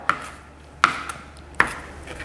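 A sharp knife chopping fresh thyme on a cutting board for a Hatay-style salad with cracked olives, three separate crisp cuts spaced evenly, close and clear over a quiet room.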